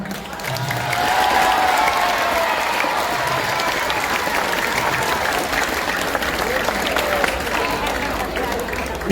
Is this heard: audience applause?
yes